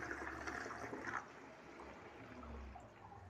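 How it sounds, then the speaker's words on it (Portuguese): Toilet flushing into a bowl clogged and covered by a trash bag with the lid held down: a strong rushing gush that eases off into a steady, softer watery churn, close by, with no voices. "Eu abaixo a tampa, ó, tá vendo? Aí eu seguro aqui com a perna aqui e vou dar descarga"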